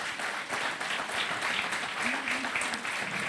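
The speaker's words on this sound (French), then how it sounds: "je crois qu'on peut les applaudir et les remercier" Audience clapping for race volunteers at a February 2019 Trophée 3M awards ceremony, steady dense applause throughout with a voice faintly audible underneath near the end.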